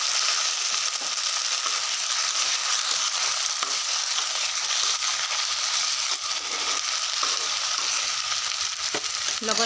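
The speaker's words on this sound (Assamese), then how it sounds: "লগতে মই ফ্ৰেঞ্চবিনৰ আলু ভাজিছোঁ" Potatoes and French beans fry in a pan with a steady, close sizzle and occasional stirring scrapes, loud and continuous throughout with no talking.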